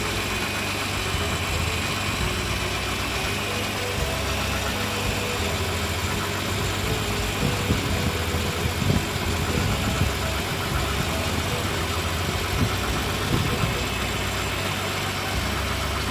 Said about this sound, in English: Look how smooth the engine's running now.